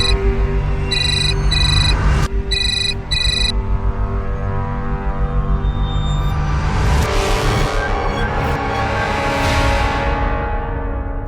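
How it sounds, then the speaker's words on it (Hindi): A telephone rings unanswered in a televised crime drama, its electronic ring bursts repeating in short clustered pulses over a sustained musical bed, then the ringing gives way to swelling, whooshing score. "वो दीदी फोन नहीं उठा रही है।"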